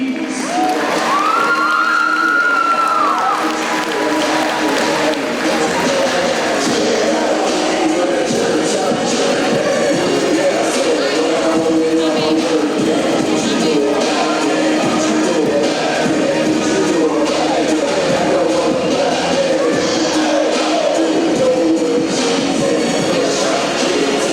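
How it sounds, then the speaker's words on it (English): A crowd at a high school football signing event cheers and applauds for the signees, a loud, dense wash of clapping and voices that holds steady throughout, with scattered shouts rising above it. "Ladies and gentlemen, give it up one more time for the signees."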